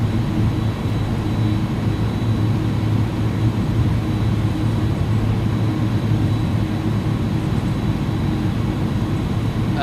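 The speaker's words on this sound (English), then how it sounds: "We're just going to go straight for the takeoff here." An airliner's engines roar steadily during takeoff from San José in a flight simulator game, a loud continuous drone that holds constant with no talk over it.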